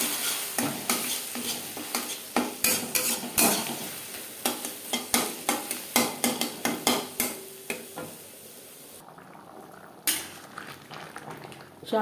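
Egg chicken tadka cooking in gravy in a pan, stirred with quick repeated scraping strokes over a bubbling sizzle, the stirring steady at first, then thinning out into quieter simmering with one last scrape.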